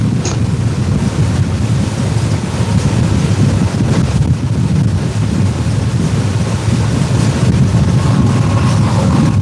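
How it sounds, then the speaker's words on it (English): Strong wind buffets a fishing boat out on the water, a loud continuous roar and rumble with wave wash underneath, steady throughout and without talk. "And it's breezy out here."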